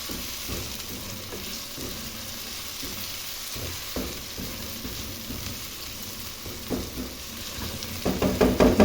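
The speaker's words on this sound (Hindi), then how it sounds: "इसको ऐड करने के बाद मैं इसको अच्छी तरह से भून लूँगी मसाले को।" A masala of ginger, onion, tomato and green chillies fries and sizzles in a pan for restaurant-style cholay, with intermittent stirring scrapes that grow louder and busier toward the end.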